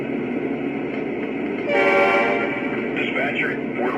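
A Lionel Legacy ES44AC BNSF #6075 Heritage model diesel locomotive gives a brief horn blast over its steady idling engine hum, followed by a few softer sound-effect tones.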